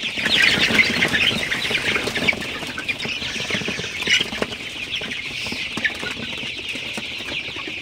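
Sonali super hybrid chickens, about 30 days old, in a poultry shed: a continuous busy chorus of clucking and chirping with bursts of wing flapping, moderately close and without talk.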